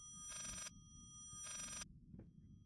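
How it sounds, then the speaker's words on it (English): A telephone rings in the horror video game Layers of Fear, played in VR: two bright electronic ring bursts with a pause between them, moderately loud, over a quiet low ambient hum. "So if we walk back the other way, notice the ringing."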